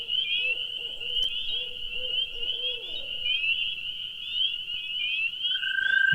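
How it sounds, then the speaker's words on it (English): A barred owl hoots in a short rhythmic series from the distance at night, faint beneath a steady high chorus of frogs and toads trilling. "just heard a barred owl in the distance"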